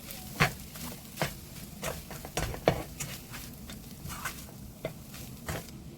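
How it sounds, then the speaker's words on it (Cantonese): Seafood fried rice with abalone and shrimp stir-fried in a wok with a metal spatula, giving a quiet, irregular series of scraping clacks over a faint sizzle. "用鑊鏟將佢兜勻"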